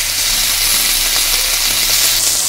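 Desi-style chilli chicken frying in a pan gives a steady, loud, continuous sizzle, close up with no talking.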